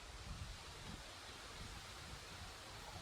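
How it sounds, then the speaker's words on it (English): Wind blowing through trees and leaves outdoors, a steady soft rushing hiss with low gusty rumbles, faint and continuous with no voices. "the wind's blowing through the trees and the leaves"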